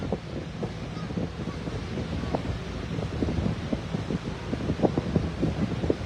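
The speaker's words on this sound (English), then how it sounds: "Sorry if it's a bit noisy, it's very windy." Strong wind buffets a microphone outdoors on the coast at Clacton, producing a constant rough rumble with irregular gusty thumps throughout.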